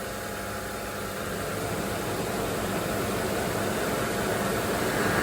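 A car engine runs steadily at about 1200 to 1500 rpm while the AC is serviced, giving a constant broadband drone and hum that rises slightly in loudness, with no talking.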